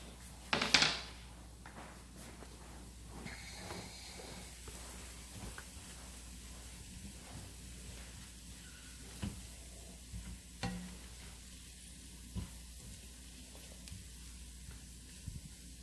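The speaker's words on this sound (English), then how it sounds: "parsnip and carrot to skillet, to brown it a little bit" Parsnip and carrot browning in a skillet for stuffed cabbage: a faint steady sizzle with occasional soft stirring taps and one sharper knock at the start, quiet and close, no voices.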